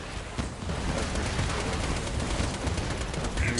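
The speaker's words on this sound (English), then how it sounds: "Firing missiles." Missiles firing in the video game Borderlands 2, a dense barrage of rapid explosive bursts and booms piling up loudly and continuously, with no talk over it.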